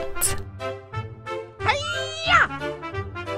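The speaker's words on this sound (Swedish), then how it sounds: "Katt." A cat meows in a couple of drawn-out, clearly pitched calls, close and distinct, in a children's Swedish-language lesson, with a voice saying the Swedish word for cat around them.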